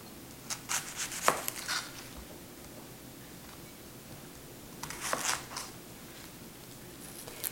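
A knife slices four large onions thinly on a board for homemade onion soup, crisp rapid cuts coming in two close bursts separated by a quiet pause.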